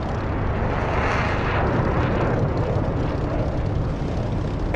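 A combat aircraft engine in a DCS or War Thunder flight simulator roars loudly and steadily, a broad dense rumble that fills the whole stretch without pause.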